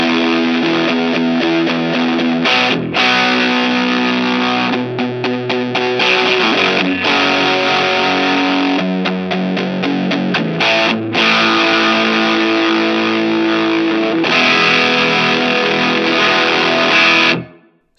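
An electric guitar is played through a fuzz pedal, giving a thick, saturated, heavily distorted tone held almost continuously for the whole stretch with brief breaks between chords, loud and alone, then cutting off abruptly.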